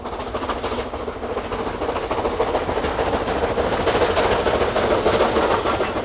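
Steam locomotive 92024, one of the engines built with a Franco-Crosti boiler, running with a steady broadband rush and rumble that grows slightly louder through the clip, with no voices.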